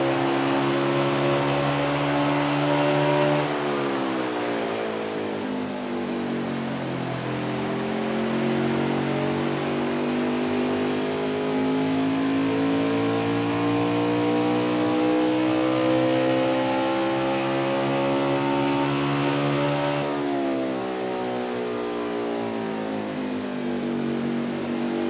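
NASCAR Xfinity race cars roar around the Gateway oval, a loud, sustained engine drone whose pitch sweeps up and down as cars accelerate and pass, with no talk over it.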